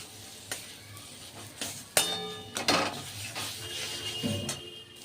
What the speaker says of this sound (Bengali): এটাকে কন্টিনিউ নাড়াচাড়া করতে হবে যতক্ষণ না এর মধ্যে একটা জল থাকে ওই জলটা না একদম ড্রাই হয়ে যায়